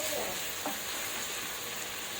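Pork stir fry being stirred in a hot pan with soy sauce and oyster sauce, a steady close sizzle with soft scraping of the utensil.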